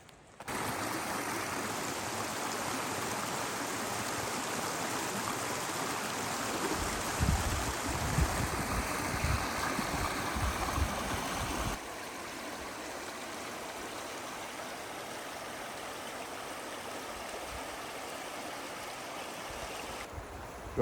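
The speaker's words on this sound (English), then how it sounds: "I love the sound of running water" A creek along the Pine Creek trail in Tioga State Forest runs steadily, a continuous close rushing and gurgling of water that stays even throughout, with no voices.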